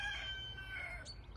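A rooster crows once in a garden setting, a drawn-out cock-a-doodle-doo that sounds fairly distant and soft over a low steady background rumble.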